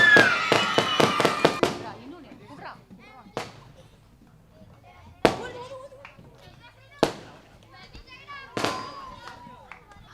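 Fireworks burst in the sky at an outdoor Sunday school annual program. A rapid string of sharp cracks comes first, then scattered single bangs, loud and close, with children's voices and chatter in between.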